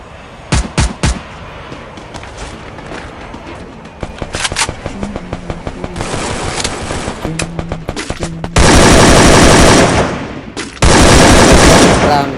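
Gunfire from a shooting video game during a tournament, with sharp single shots first and then dense, loud automatic bursts toward the end, mixed with game sounds and some voices.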